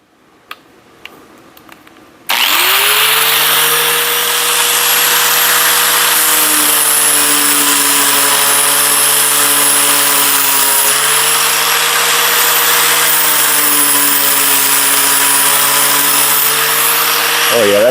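A power sander grinds against a ball peen hammer, starting abruptly after a few quiet ticks and then holding a loud, steady whine with slight pitch dips under load, close up and continuous to the end.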